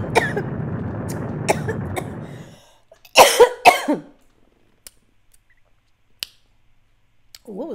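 A few sharp coughs and throat-clearing bursts close to the mic in Princess Peach: Showtime!, after a stretch of low rustling noise, then scattered clicks and quiet.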